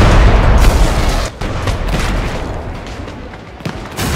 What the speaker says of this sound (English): Aim the cannons.